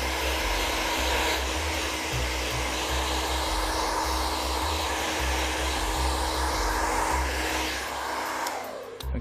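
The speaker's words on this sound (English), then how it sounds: "make sure that when you're drying, that you're drying the hair in the way you want it to go" A hair dryer blows steadily and loudly at close range as hair is dried, a dense unbroken whoosh over a low motor hum that holds for the whole stretch and falters only near the end.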